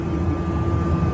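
Steady, close engine roar of a private jet aircraft, a continuous broadband rumble with a constant whine held throughout, with no voices.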